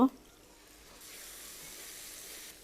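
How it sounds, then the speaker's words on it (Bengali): About a spoonful of water poured into ground coriander, chili and turmeric frying in a pan for a fish rezala, giving a faint, steady hiss after a brief clink at the start. "এক চামচের মতনই পানিটা দিব"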